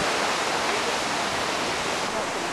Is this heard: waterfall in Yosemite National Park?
yes